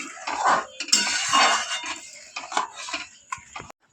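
A spoon scrapes and clinks against a pot as sugar is stirred for palm-fruit patishapta, giving irregular close metallic knocks and scrapes with short pauses between strokes.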